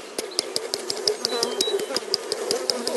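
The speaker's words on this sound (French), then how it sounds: "Alors les abeilles, elles gueulent, elles aiment pas ça" Honeybees shaken in a jar of powdered sugar during a varroa mite count, buzzing loudly in an agitated drone broken by a rapid, regular series of sharp rattling shakes.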